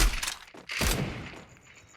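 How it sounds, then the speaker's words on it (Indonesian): Bursts of gunfire in a Free Fire tournament match on the Bermuda Remastered map rattle in a dense, noisy mix, a loud volley early then scattered shots fading toward the end, with no talking. "Dari atas juga masih ada tembakan."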